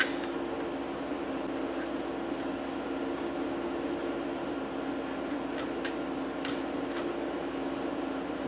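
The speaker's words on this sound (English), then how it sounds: "I apologize for the air conditioning noise that's probably audible" Air conditioning running indoors, a constant mechanical hum with a steady tonal drone and broadband airflow hiss, unchanging for over eight seconds, with a few faint light clicks over it.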